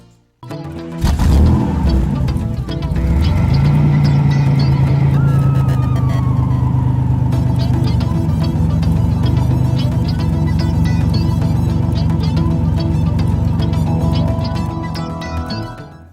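Race trucks in the Camping World Truck Series roar around the Eldora dirt track in Ohio: a loud, sustained engine drone that swells in and holds steady with shifting pitch as the field passes.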